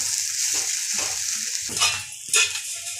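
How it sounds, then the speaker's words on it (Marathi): Softened sago is stirred with its mixed ingredients in a pan, giving steady scraping strokes over a constant soft sizzle, close and fairly loud, with no one speaking. "तर छान अशी एकजीव करून घेऊया शाबू"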